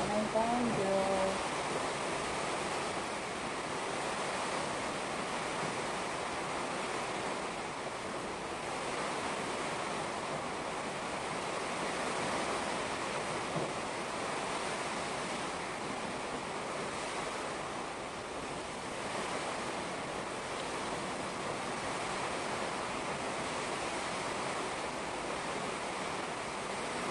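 Strong typhoon Tino wind roars in a steady, loud, unbroken rush close to the microphone, with gusts buffeting it and a faint voice briefly underneath.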